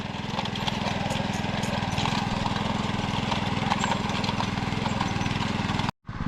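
A tractor engine chugs steadily while ploughing a wet paddy field in a Konkan village, a loud, even low throb with rapid rhythmic pulsing that runs throughout and cuts out sharply for a moment near the end.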